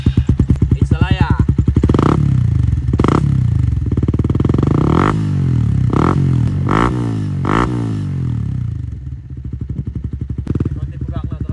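A Suzuki Raider FI motorcycle fitted with a power pipe exhaust idles with a fast, loud popping burble, then is blipped in several sharp revs close to the microphone before settling back to idle.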